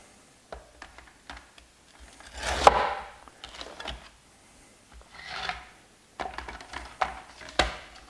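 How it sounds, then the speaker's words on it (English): A knife saws through a homemade bagel's crust in short, scratchy rasping strokes, close and dry, with quiet pauses between cuts. "Let's slice one open."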